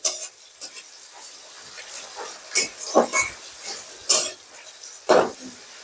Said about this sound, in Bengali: পেঁয়াজ কুচিগুলো দিয়ে দিলাম পেঁয়াজ দিয়ে ভালো করে নেড়ে নিচ্ছি